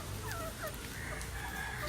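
Several caged chickens on a small poultry farm cluck and murmur continuously, their short calls overlapping against a steady background hiss.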